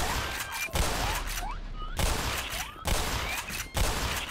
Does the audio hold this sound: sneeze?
no